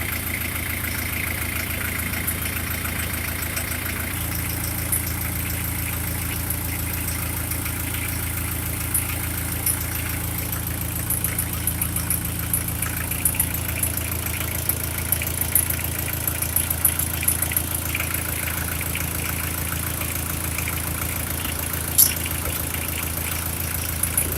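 UAZ fitted with a turbo engine idling, an even mid-low rumble that drops slightly in pitch after a few seconds, with faint ticking and clicks over the top and no talk.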